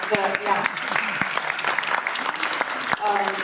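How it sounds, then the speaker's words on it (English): Scattered applause from the audience at a community forum on refugee services, uneven claps of moderate loudness mixed with voices and brief talking. "If there's going to be applause at any time, it should be maybe right now for Nikki"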